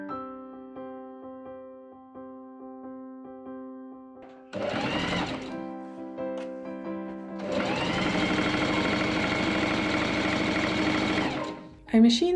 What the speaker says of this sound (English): I machine sew two rows of gathering stitches around the whole neck edge, even along the double thick gusset